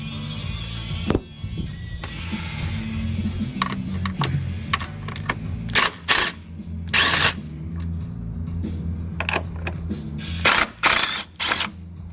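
A hand ratchet works loose the 10 mm bolts on a 2018–19 Ford F-150 headlight, giving bursts of quick metallic clicking, separated by short pauses and clattering handling noise. The sound is close and there is no talk.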